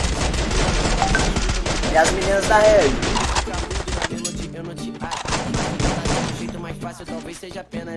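Rapid bursts of game gunfire crackle densely for several seconds, then thin out as music and a talking voice continue underneath.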